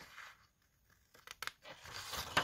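Scissors cutting a bevel about 1 cm high into craft material, heard as a few short crisp snips and rustles close by, with quiet pauses between cuts.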